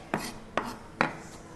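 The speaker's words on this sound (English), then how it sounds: "Chop it. Green onions, green onions." Green onions chopped with a knife on a board while cooking red snapper, three separate crisp chops spaced about half a second apart, close and clear with no talking.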